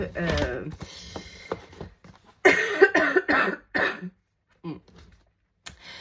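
A few sharp coughs and throat-clearing sounds come in short bursts close by, separated by brief silences.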